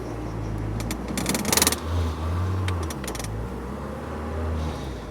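A Spoon-built Honda Civic EK9 engine drones steadily and close while driving, with a brief burst of light metallic jangling midway.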